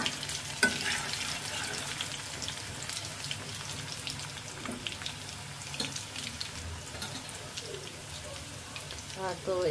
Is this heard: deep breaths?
no